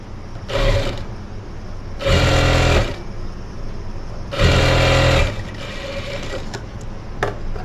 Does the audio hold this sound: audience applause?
no